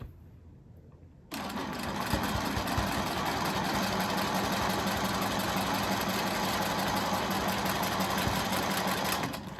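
A sewing machine quilting the outside border of a scrap quilt starts up after a quiet second and runs continuously, a close, steady mechanical whir with a rapid needle rhythm and no talking.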